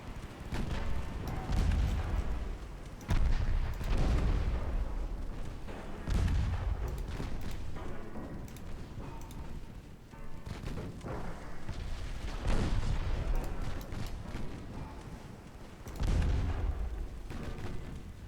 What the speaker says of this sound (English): Is that a massive torpedo strike? What it look like? Like a whole bunch of torpedoes going off.